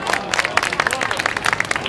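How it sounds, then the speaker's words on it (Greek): An audience at a municipal Christmas celebration in Marousi, Greece claps in a dense, fast patter of many hands, with voices mixed into the applause. "Χειροκρότημα να ακούσω, χειροκρότημα θα πούνε, έτσι χειροκροτάνε στην Ελλάδα."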